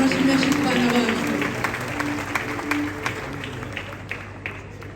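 Audience clapping for children at a Christmas celebration, a dense, steady burst of applause that gradually thins and fades, with a voice speaking over it.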